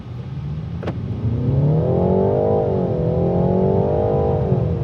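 A 2025 BMW 330i sedan accelerates, its engine note climbing and holding a smooth, fairly loud growl heard from inside the car.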